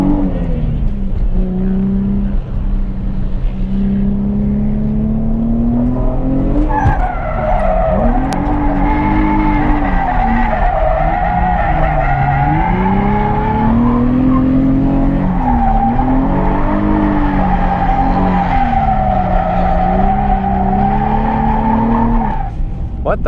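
A car called the Cream Z drifts around a test layout, its tires squealing loudly and continuously as the engine revs rise and fall through long slides, with a voice occasionally heard under the noise.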